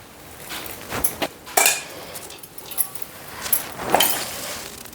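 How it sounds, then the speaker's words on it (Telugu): Cooked rice clatters into a clay pot for chicken matka biryani, with several sharp clinks and knocks of a spoon against the pot's rim scattered over five seconds, close and fairly crisp. "మనం అన్నం వేసుకోవాలి"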